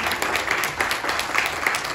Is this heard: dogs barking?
no